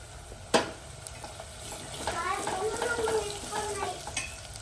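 A spoon scrapes and stirs chilli bhaji with turmeric and salt in a hot pan, a sharp clink at the start followed by soft sizzling and gentle stirring, fairly quiet and close.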